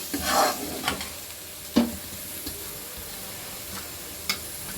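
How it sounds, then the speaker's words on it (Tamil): Tomato, onion and masala are sautéed down toward a paste in a pan, giving a soft frying sizzle under several scraping stirs of a spoon against the pan, some sharper than others. "இந்த தக்காளி வந்து நல்லா குழஞ்சி இந்த வெங்காயத்தோடையும் இந்த மசாலா வந்து இப்படி இருக்கிறது வந்து அப்படியே நமக்கு பேஸ்ட்டு மாதிரி வர்ற அளவுக்கு நம்ம வதக்கி எடுத்துக்கணும்"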